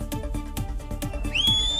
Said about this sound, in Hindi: जब कोई व्यक्ति आपदा को आते हुए देखता है तो जोर से सीटी बजाता है